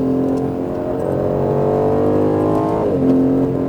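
Aston Martin Vantage F1 safety car accelerating hard on a track at Speed Vegas: a loud, close engine roar climbing steadily in pitch, with a quick shift and renewed surge near the end and no talking.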